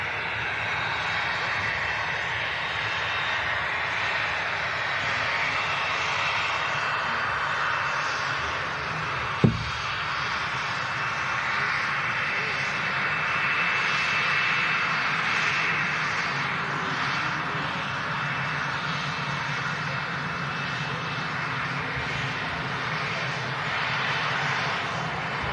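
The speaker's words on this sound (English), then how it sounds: "Lovely BizJet arriving in as well." A business jet arrives at Manchester, a loud continuous engine roar with a whining high tone that holds steady for the whole stretch, broken by one brief sharp click midway; no talk.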